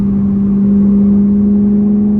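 A BMW E92 M3 Competition's naturally aspirated V8 drones steadily from inside the cabin while driving, a constant low hum with no talk over it.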